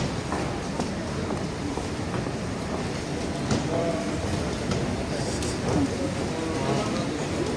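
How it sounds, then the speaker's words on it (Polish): A Koleje Śląskie train at Gliwice railway station, a steady rumble with faint clicks running throughout amid busy station noise, with no clear voices. "tutaj jest jakiś pociąg kolei śląskiej"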